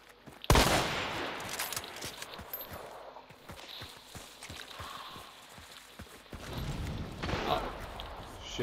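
Gunfire in a console PvP shooter: a sudden loud shot opens, followed by a long run of rapid, evenly spaced lighter shots and a later louder burst, all over a busy game background.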